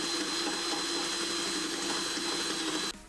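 A power drill runs continuously for about three seconds, whirring steadily and close while boring a hole into a 2023 Toyota GR86, then cuts off abruptly.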